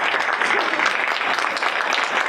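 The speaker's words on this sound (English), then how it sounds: "I would impose upon them to stand for one moment together that we can applaud" Guests at an awards dinner applaud the staff, dense continuous clapping filling the room at a fairly loud, even level.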